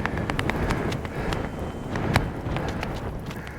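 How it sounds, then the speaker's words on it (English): Strong wind on a Lake District fell walk buffets and roars across the microphone in steady, rumbling gusts, with no voices. "wowzers, that is windy."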